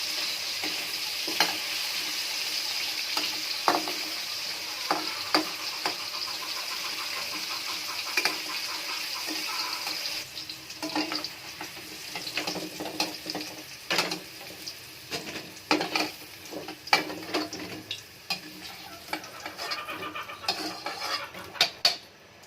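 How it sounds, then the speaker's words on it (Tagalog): Carrots and potatoes brown in a pan for a chicken curry, with a bright continuous sizzle first and then a quieter fry broken by frequent clinks and scrapes of a utensil against the pan. "pa-brownon gamay. Natong carrot at patatas"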